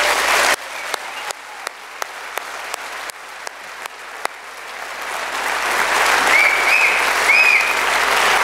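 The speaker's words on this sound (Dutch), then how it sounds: "mag ik daar een groot applaus voor." A theatre audience breaks into applause for the backstage crew, and the clapping swells from sparse, regular claps into loud, dense, sustained applause.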